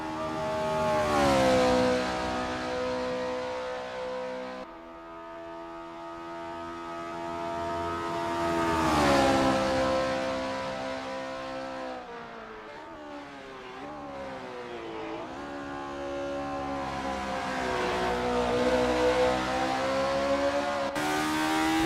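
Honda S800 race cars lap the Macau Grand Prix circuit in Assetto Corsa, their engines revving loudly and continuously, pitch climbing through the gears and dropping between shifts as several cars pass, with no talk over them.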